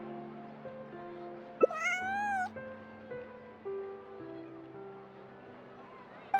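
A cat in Genshin Impact gives a short rising meow in the middle of the clip. Soft ambient tones sit underneath, and a few faint clicks fall before and after it.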